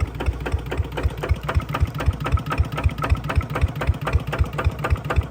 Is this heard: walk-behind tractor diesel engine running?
yes